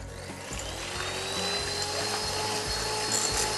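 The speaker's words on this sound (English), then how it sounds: "we're just going to whisk them to stiff peak before we add the sugar" An electric whisk beats egg whites toward stiff peaks for a meringue, giving a steady, close mechanical whir with fast rattling against the bowl that holds constant throughout.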